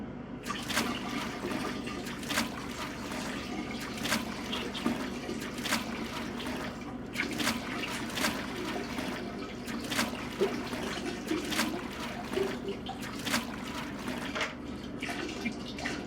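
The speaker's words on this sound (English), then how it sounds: "we're just going to take our bucket and slowly but surely, we're just going to pour this right on in" Water from a bucket splashes and gurgles steadily into a toilet bowl for the full stretch, a continuous pour broken by brief sharper spatters, with no talking.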